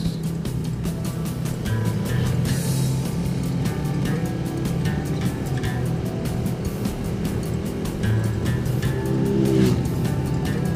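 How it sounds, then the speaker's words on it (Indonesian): A motorcycle runs fast along a smooth hot-mix asphalt road on a trip from Magangan to Gunungggiana, its engine drone steady and close with constant road and wind roar, no talking. "Kita dapat memacu motornya dengan lumayan cepat."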